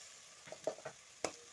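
Chopped onions, green chillies and curry leaves frying in a pan, heard as quiet, scattered crackles and pops over a soft, low sizzle.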